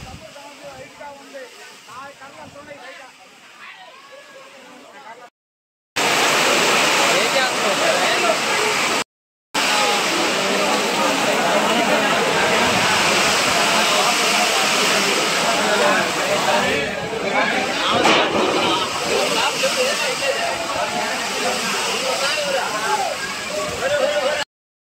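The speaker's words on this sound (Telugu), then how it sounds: "ఈ విధంగా వర్షం పడింది ఫ్రెండ్స్" Heavy cyclone rain with gusty winds pours down during Cyclone Michaung in Nellore, a loud, dense, steady roar of rainfall and rushing water, with a quieter opening stretch and brief gaps where the recording cuts out.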